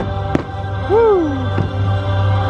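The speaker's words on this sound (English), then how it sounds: "these fireworks are warming my spirit" Fireworks at Epcot, Walt Disney World, on a rainy night: two sharp distant bangs about a second apart, with a whistling, swooping tone rising and falling between them over a low crowd murmur.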